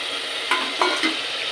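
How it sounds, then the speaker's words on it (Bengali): Marinated mutton and chicken dropped into frying onions in a pan, a loud close sizzle with a few sharp scraping stirs and bursts of spattering over the hiss. "এবার আমি ম্যারিনেট করা মাংসটা এতে ছেড়ে দিচ্ছি।"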